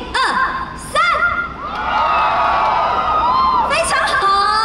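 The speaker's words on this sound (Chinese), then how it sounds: "2022台北灯节该有的尖叫声，好不好？" A large outdoor concert crowd at the 2022 Taipei Lantern Festival in Shilin screams and whoops in loud, shrill bursts that rise and fall, with voices mixed into the din.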